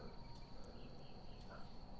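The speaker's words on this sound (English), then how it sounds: "all I can hear is the sound of crickets and birds" Crickets chirp steadily outdoors at night under a starry sky, a continuous faint high trill with a quiet broadband background and no traffic; bird calls are not clearly distinct.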